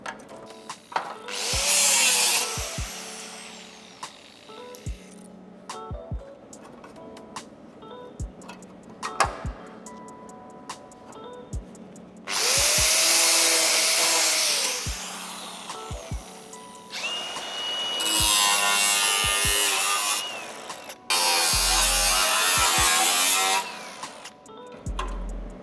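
Bursts of harsh grinding from a power sander on a classic Mini's car body metal come and go, separated by quieter gaps with scattered clicks and taps.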